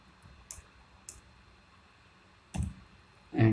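A few sparse clicks of typing on a computer keyboard while programming a PIC16F877A microcontroller, quiet taps spaced apart, then a couple of louder clicks and a thump near the end, with no talk.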